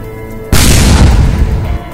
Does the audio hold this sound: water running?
no